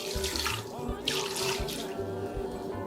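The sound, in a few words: water poured into cooker pot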